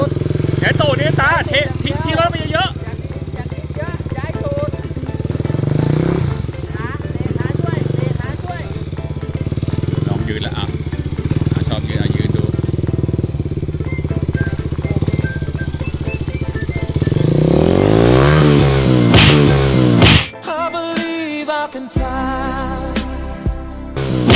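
Dirt bike motorcycle engine revving and sputtering during off-road riding through woods, loud and close with fluctuating throttle, then cutting out as people talk over it.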